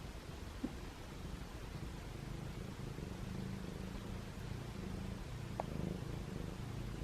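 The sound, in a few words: cat purring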